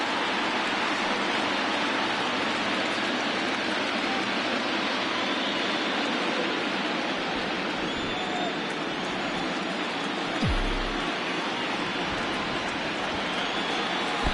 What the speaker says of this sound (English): I don't know how much more rain this field can take